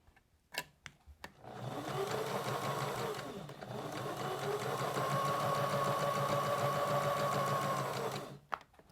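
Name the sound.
sewing machine stitching fabric pieces by chain piecing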